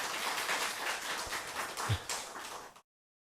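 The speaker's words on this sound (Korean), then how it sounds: "우리 한번 응원의 박수, 감사의 박수 한번 할까요?" A church congregation at a Wednesday worship service gives a short round of applause of encouragement and thanks, a steady patter of many hands that stops abruptly.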